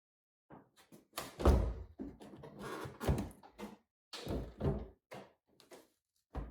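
The door of a Honda Civic Type R is handled in a body shop during removal and refitting for deer dent repair, giving a quiet series of irregular thunks, clunks and knocks close by, with no talk.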